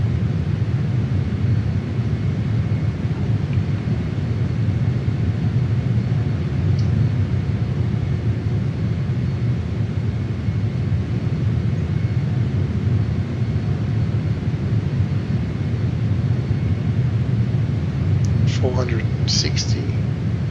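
A JAS-39 Gripen jet in a flight video game, flying near Sokhumi, gives a steady loud low engine rumble throughout, with a brief chirp of higher sounds near the end.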